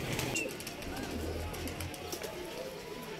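A pigeon coos softly in a loft holding a returning Chinese racing hen, faint low cooing under quiet room noise with a brief high chirp.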